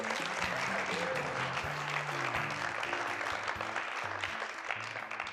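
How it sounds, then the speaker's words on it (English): An audience applauds six volunteers who have come up on stage, with steady, moderately distant clapping running the whole time. A sustained musical tone plays underneath. "Friends, give these 6 brave volunteers a round of applause."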